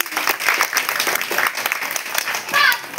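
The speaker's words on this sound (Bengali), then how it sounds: "বাবা বাবা বাবা দিদি ভাইবা, হাততালি হাততালি।" Hands clap in a steady patter of applause through a lively moment of a homemade Bengali Tusu song skit, with voices talking over the clapping.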